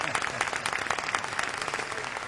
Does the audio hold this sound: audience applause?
yes